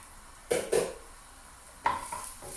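Garlic going into a pan for stir-fried sambal brinjal: a few close metallic clanks of utensil against pan, two quick knocks then another pair, over a faint background hiss.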